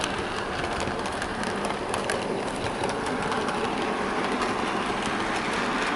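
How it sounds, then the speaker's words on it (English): A model Class 24 locomotive hauls coaches around a model railway layout, giving a continuous, fairly quiet whirring and rattling rumble with faint clicking of wheels on track and no voices. "here we have the Suttons Locomotive Works Class 24 running around the layout with Laboratory 10 and the Landore Breakdown Unit in tow."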